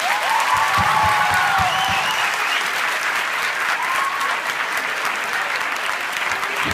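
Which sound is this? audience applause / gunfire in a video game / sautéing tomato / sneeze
audience applause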